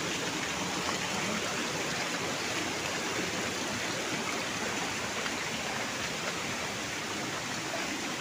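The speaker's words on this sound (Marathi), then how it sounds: "रिमझिम रिमझिम पाऊस पडतोय." Light monsoon drizzle falls alongside flowing stream water outdoors, a steady, even hiss of fine rain and running water that stays constant and fairly soft throughout, with no voices.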